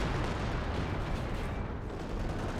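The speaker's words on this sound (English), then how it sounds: "And artillery is hitting around him." Continuous artillery barrage in Company of Heroes 2 on the Hill 400 map, a dense, loud rumble of explosions and shelling layered into a steady roar across the whole moment, with no clear individual blasts standing apart.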